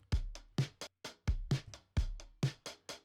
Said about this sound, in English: I got this drum loop already going.